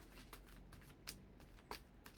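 Soft riffling and flicking of cards being shuffled, with a few sharper snaps standing out from a quiet, steady rustle.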